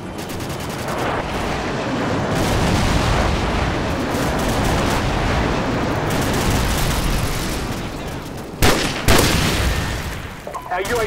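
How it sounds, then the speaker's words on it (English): Airstrike explosions and rapid gunfire in Call of Duty 4: Modern Warfare fill the scene with a dense, continuous roar of shots and blasts, with a couple of sharper bursts near the end. "Friendly airstrike on the way."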